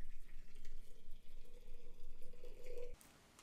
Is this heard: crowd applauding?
no